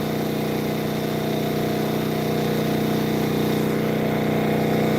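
A generator engine running on fuel made from plastic drones loudly and steadily at a constant idle-like pitch, close by, with no voices over it.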